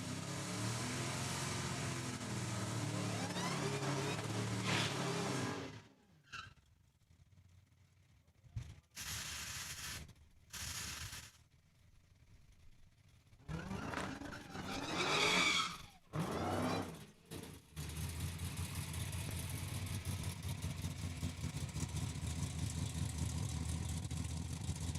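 At a drag strip, a 1967 Camaro and a 2018 Dodge Demon race side by side: loud engine roar and revving, then quieter gaps with brief engine bursts, ending in a sustained roar.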